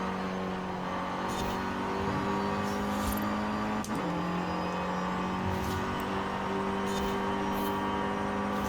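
An Alpine all-wheel-drive car driving in Forza Horizon 5, a steady sustained engine drone with a brief pitch dip and shift midway, held at a constant moderate level.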